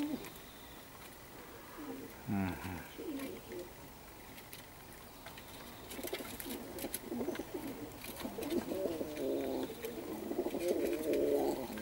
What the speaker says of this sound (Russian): кормят голубят.